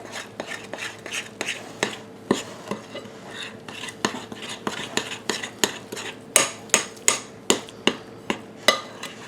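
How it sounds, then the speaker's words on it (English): A spoon stirs keto zucchini bread batter with room-temperature butter in a bowl, each pass giving a quick clinking knock on the rim in a steady, close rhythm that grows sharper toward the end. "we're just going to mix this up until all the ingredients are incorporated"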